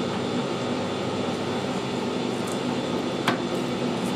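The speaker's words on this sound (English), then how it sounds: "so we'll start the lathe up" A lathe runs while screw cutting aluminium, giving off a steady, fairly loud mechanical drone with one brief sharp click near the end.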